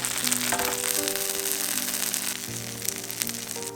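Oatmeal scallion pancake frying in a pan until golden on both sides, a dense steady sizzle and crackle throughout, close and fairly loud, with faint background music tones beneath.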